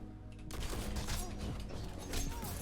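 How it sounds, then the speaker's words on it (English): Heavy weapon fire in a Destiny-style shooter game, a dense continuous barrage of shots mixed with game effects, loud and steady after a quieter opening half second. "When this guy's shooting heavy at me"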